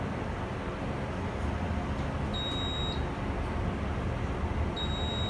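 A Westinghouse traction elevator gives two short, bright electronic floor-passing beeps, spaced a couple of seconds apart, over a steady low mechanical hum with no talking.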